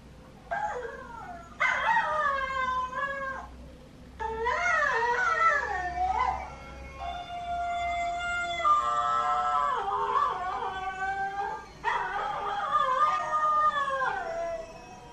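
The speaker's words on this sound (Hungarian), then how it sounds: "És akkor benyomjuk a hangot. Ez az ugatás lesz." Recorded dog barking and howling played back through a phone speaker, several bursts of yips, howls and whimpers with short gaps between them, fairly close and slightly thin, with no voices over it.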